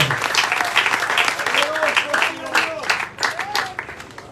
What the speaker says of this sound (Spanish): Denle fuertes palmas al Señor esta noche